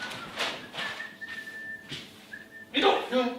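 A person whistles a few sustained and sliding notes between breathy sounds, close and clear, with some brief voice at the end.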